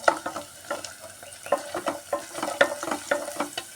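Crushed garlic frying in a pan for pickle, with close, irregular clicks and scrapes of stirring over a low, steady sizzle.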